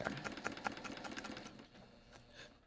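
A sewing machine stitches along an I Spy fabric bag, a quick rhythmic run of needle strokes for about a second and a half, then slows and fades into quiet room tone; fairly soft and close, with no talking.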